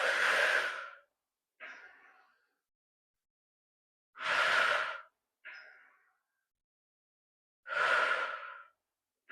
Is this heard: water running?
no